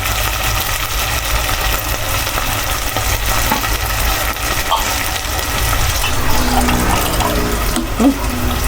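Water running from a tap into a cooking pan on a home stove, a steady continuous pour and gush filling the whole stretch, fairly close and loud with no talk over it, while sautéed onion, garlic and canned sardines cook for pancit canton.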